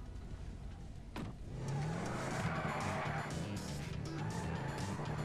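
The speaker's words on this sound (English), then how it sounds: "Isn't this a pretty fast four-door car?" A fast four-door car with a maxed turbo engine upgrade races in GTA 5, its engine roaring steadily close up as the tires screech and skid through a turn.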